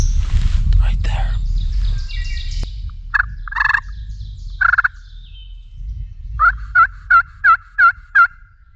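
A wild Pennsylvania gobbler in the woods, its distant gobbles ringing out in bursts, ending in a rapid series of several repeated calls, over low wind and rustling with faint whispered voices nearby.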